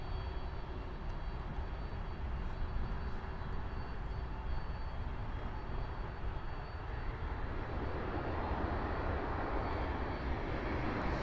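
A Delta A321 airliner at Miami Airport produces a steady, distant jet roar that holds throughout and swells slightly toward the end, with no talk over it.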